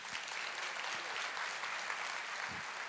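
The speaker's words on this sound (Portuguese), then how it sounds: "Você pode aplaudir o Senhor?" Church congregation applauding together, a steady dense wash of clapping hands filling the space from start to finish, with no voices rising above it.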